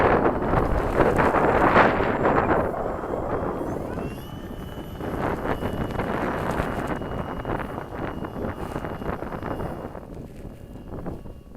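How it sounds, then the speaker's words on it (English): Strong, gusty wind buffets the microphone outdoors at a windy model-aircraft flying field where a Freewing Seagull 64mm EDF glider is flown, a continuous loud rumble with broadband roar and no voices. "Real windy."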